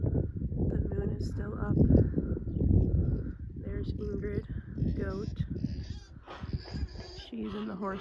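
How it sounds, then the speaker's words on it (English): A goat bleats on a farm on a cold winter morning, several wavering calls near the end mixed with other livestock noise and someone talking over the first half. "There's Ingrid, goat"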